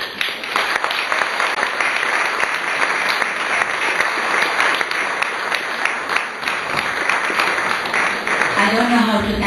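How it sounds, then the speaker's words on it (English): A lecture audience applauds, dense, loud and sustained clapping from many hands that fills the room without pause. "I think the claps have said it all"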